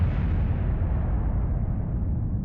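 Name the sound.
rocket explosion in video game Kerbal Space Program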